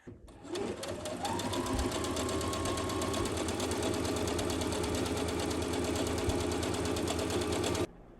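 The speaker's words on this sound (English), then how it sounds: "So I'm going to mark here and I'm going to mark here. And then I will sew up and up." Sewing machine running through fabric for a book sleeve lining. The motor spins up quickly and holds a fast, even rattle of stitching for about seven seconds before stopping abruptly.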